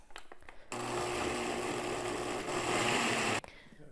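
Blender pulsing jalapeno green rice cooking liquid: a single loud whirring burst of about three seconds, starting and stopping abruptly, with faint handling knocks before it.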